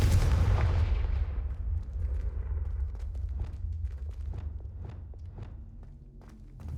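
Confringo fire blast spell in Hogwarts Legacy: a loud booming blast that decays over a couple of seconds, followed by scattered crackles and light impacts, with no speech.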